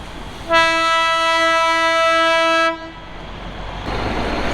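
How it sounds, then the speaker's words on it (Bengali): The Darjeeling toy train's horn blares loudly and steadily for about two seconds, then cuts off, leaving the low rumble of the train nearby. "দেখা হয়ে গেল দার্জিলিং টয় ট্রেনের সঙ্গে"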